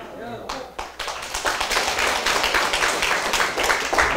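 An audience at a political seminar claps in a broad, sustained round of applause that swells and holds, with talking mixed in.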